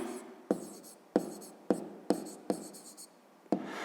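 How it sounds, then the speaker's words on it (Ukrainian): A pen writes an answer by hand on paper, six or seven short scratching strokes in a quick, uneven rhythm, close and fairly quiet. "Пишемо відповідь."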